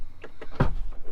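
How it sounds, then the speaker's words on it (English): A falcon wing door on a 2020 Tesla Model X Performance moves with a few short mechanical clicks and thuds, then one firmer latch-like knock, heard close by with no talk. "you can use the screen right there to open and close the door, or you have this button here"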